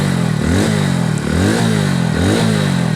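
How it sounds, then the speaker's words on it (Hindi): A 2022 Hero Splendor Plus Xtec motorcycle engine's deep, throbbing exhaust note, loud and close, rising and falling in repeated revs with a steady rumble underneath. "इंजन का जो साउंड है फ्रेंड्स, ट्रस्ट मी, काफ़ी सही है"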